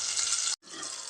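Green chilies and asafoetida sauté in a hot pan with a steady, bright sizzle, cut by one brief silent break before the frying hiss returns.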